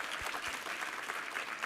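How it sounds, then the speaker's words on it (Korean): Congregation clapping during a Sunday church service, a brief, even wash of many hands applauding at moderate distance, with no speech over it. "우리 하나님께 감사와 영광의 박수 올려드리겠습니다."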